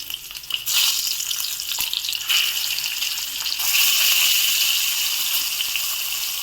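Eggplants are added to a hot pan of tempering oil and fry with a loud, continuous sizzle that flares up in several bursts as more pieces go in. The sizzle is heard close and alone, with no talking.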